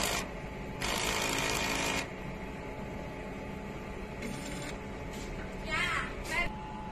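An eco solvent printer running its head cleaning cycle, a steady mechanical whir with a louder buzzing burst of the carriage motor early on, then shorter pulsing motor bursts, close and continuous.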